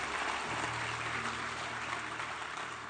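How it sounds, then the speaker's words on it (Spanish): A church congregation applauds in a dense, steady wash of clapping that carries on evenly for a few seconds at moderate volume. "denle un fuerte aplauso al Rey"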